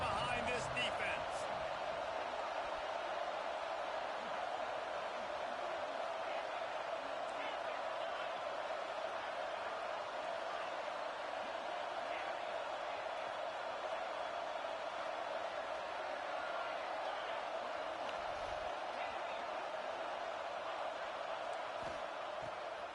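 Football stadium crowd at a college game between Auburn and Penn State, a sustained roaring wash of cheering noise for the defense on third down, with commentary voices over it.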